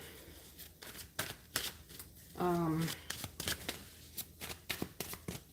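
Tarot cards are shuffled by hand in quick, crisp bursts of riffling and snapping, close by and repeated throughout, with a brief hum of voice partway through.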